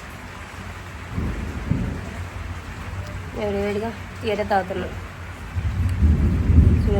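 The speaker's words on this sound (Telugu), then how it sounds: "బయట అయితే వర్షం పడుతుందండి వర్షం తక్కువే ఈ ఉరుములు మెరుపులు" Rain falling on a tin-sheet roof with low rumbles of thunder swelling at the start and end, while a voice talks in the middle.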